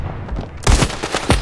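Shotgun blasts in the Standoff 2 mobile shooter game, a quiet shot followed by a sharp loud report and then a couple more quick cracks in close succession.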